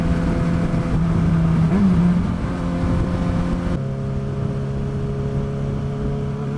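A bike engine drones steadily through a bumpy ride, a constant mid-pitched hum with slight wavering in pitch, close and fairly loud throughout.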